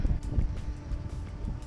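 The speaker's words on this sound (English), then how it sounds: "It's windy out." Strong wind buffets the microphone outdoors on a sailboat, a steady low rumble with gusty swells and no voices.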